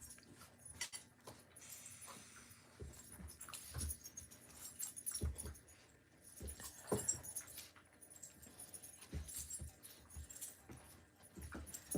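Two dogs, one big and one little, play together indoors, producing soft scuffling, paw patter, faint jingling of collar tags and occasional small whimpers, quiet and close with no clear talking.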